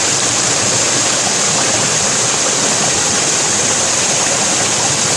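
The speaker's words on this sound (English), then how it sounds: "And on top of the waterfall." Steady, loud rushing of a waterfall inside an indoor rainforest plant nursery, a dense unbroken wash of falling water heard close with no voices.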